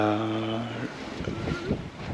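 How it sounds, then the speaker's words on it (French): Wind at sea aboard a sailboat on an Atlantic crossing from Saint-Martin to Flores, a steady broadband rush with a low hum and tonal whistle early on, then gusty buffeting against the microphone. "le vent s'est tout petit peu levé"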